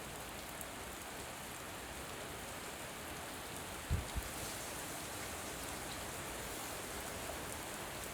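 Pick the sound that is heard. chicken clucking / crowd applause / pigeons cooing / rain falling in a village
rain falling in a village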